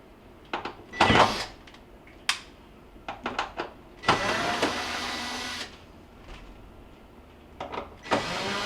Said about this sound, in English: we're going to remove the two screws in the back to pull this cover off